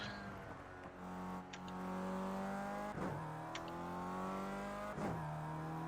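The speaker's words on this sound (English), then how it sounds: "I love the sound of this engine, this 381 horsepower engine." A 381-horsepower Mercedes-AMG 45 car engine revs up steadily in rising pitch, with quick gear shifts marked by brief dips before the whine climbs again.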